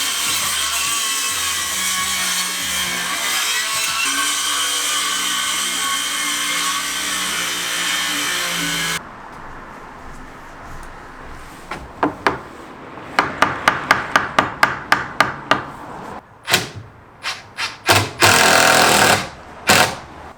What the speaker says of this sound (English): Hopefully I don't kill myself trying to cut through these nails.